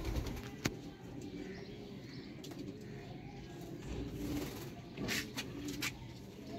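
Master Abdullah strain pigeons, pure Sialkoti birds, heard faintly in their enclosure: soft low cooing and rustling, with a few sharp clicks and brief wing flutters near the end.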